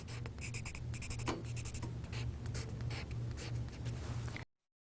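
Bright orange chalk scratches across a board in quick rhythmic strokes while letters are drawn, steady and close, with no talk.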